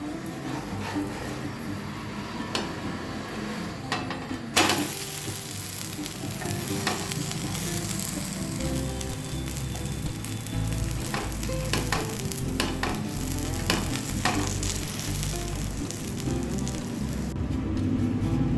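Food frying in oil in a pan gives a loud, steady sizzle that runs throughout, with occasional sharper crackles and spatters close by and no talking.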